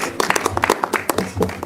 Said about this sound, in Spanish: con un aplauso tus compañeros